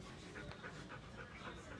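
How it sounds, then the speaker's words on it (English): An older family dog pants steadily at close range, a rapid rhythmic breathing that keeps going throughout, with faint indoor background noise around it. "here's my grandparents' dog, Gypsy."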